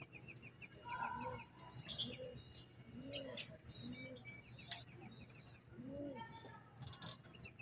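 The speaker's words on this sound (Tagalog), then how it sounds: "Yan na po ang mga kalapati natin." Pigeons coo low and soft beneath a busy chorus of bird chirps and tweets outdoors in Las Piñas, with occasional wing flutters.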